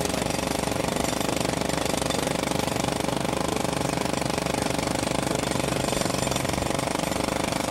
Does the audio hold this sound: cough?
no